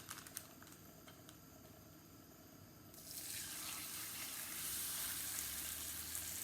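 Cassava pieces with cheese are laid into a hot frying pan, bringing on a steady, rising sizzle of oil after a quiet stretch, fairly soft and close, with no voices.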